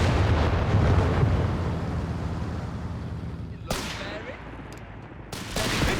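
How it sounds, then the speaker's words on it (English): Company of Heroes 3 zeroing artillery barrage: a rolling, heavy roar of shell impacts and rumbling explosions dominates early, fading into a quieter rumble broken by two sharp blasts, with a voice faintly underneath. "there was zeroing artillery"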